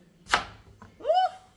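A knife cuts through a peeled vegetable, two close, distinct cutting sounds roughly a second apart, with a quiet background.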